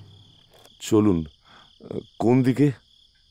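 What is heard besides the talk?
crickets chirping at night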